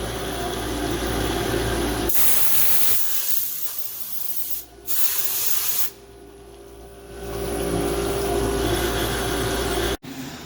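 A CNC mill set up for mill turning, its spindle spinning the part against an insert cutter, gives a loud steady hissing, spray-like cutting roar that dips and shifts in tone partway through, with a brief cut-off near the end.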